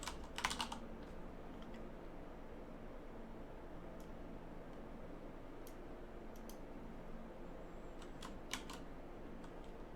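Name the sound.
typing on a computer keyboard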